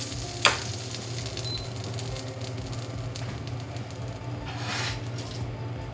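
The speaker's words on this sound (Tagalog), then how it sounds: "We coated the grill pan with butter." Butter sizzling in a very hot grill pan, a steady soft crackle and hiss at low level with a sharp pop near the start and a brief flare of sputtering later.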